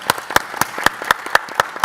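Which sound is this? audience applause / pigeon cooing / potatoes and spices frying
audience applause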